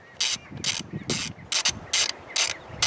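Ratchet wrench clicking in quick bursts while backing out an 8 mm bolt on the engine of a 2010 Ford Fusion SE, six or seven sharp ratcheting runs with short pauses between, close and clear, no talk.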